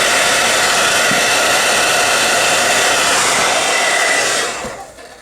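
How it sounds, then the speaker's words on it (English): A hair dryer blows steadily and loudly while drying fresh paint on a custom action figure, then cuts off and winds down in the final second. "let me hit it with a hair dryer real quick so I don't waste your guys' time"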